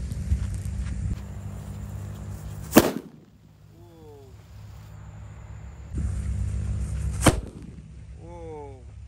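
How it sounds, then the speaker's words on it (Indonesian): A bundled disco firecracker goes off twice, each time a sharp loud bang that cuts through a steady background rumble and is followed by quick rising whistles, heard outdoors at close range. "yang pertama kita nyalakan adalah mercon disco buntelan"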